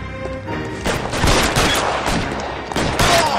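Rapid volleys of gunfire in the video game L.A. Noire, loud and close, with sharp repeated shots crackling over a busy background, several bursts arriving in quick succession.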